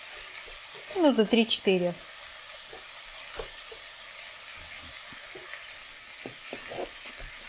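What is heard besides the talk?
carrot frying with onion in a pan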